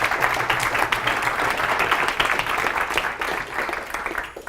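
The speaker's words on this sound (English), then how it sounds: "let's give her a warm round of applause and enjoy." Warm audience applause welcoming a speaker at a talk, a thick steady wash of many hands clapping that stays fairly even throughout.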